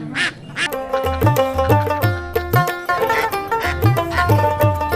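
Ducks quack loudly and continuously at a rural village market near the India–Bangladesh border, with several birds calling over one another close by.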